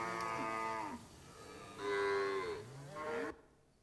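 Cattle on a farm paddock give three long, loud mooing calls in close succession, each a drawn-out lowing bellow, close by with no talking.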